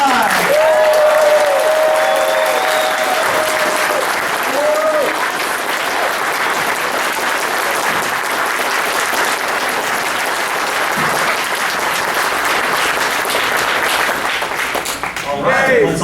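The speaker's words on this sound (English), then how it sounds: "let's hear a big, big round of applause for one of our very special guests" A large convention audience applauds guest Tomoko Ai at G-FEST XXI, a dense sustained wash of clapping lasting throughout, with a brief voice over it at the start.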